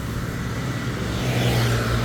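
Cars and motorbikes drive against traffic along a street in Bali's Pering district, a steady close engine rumble with one vehicle swelling louder as it passes.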